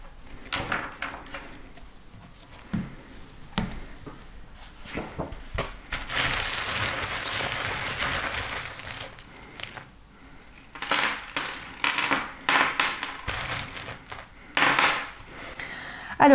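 Tarot cards gathered and shuffled during a card reading: scattered light taps and shuffles, then a sustained riffling burst of cards at close range, followed by shorter shuffling flurries, with no talking.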